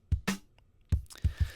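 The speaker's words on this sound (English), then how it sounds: "which is like a distorted kick and a snare to put it more up front" A distorted kick and snare layer from a prog-rock drum mix hits alone in a short pattern, with punchy thudding kicks and one bright cracking snare hit standing close and upfront.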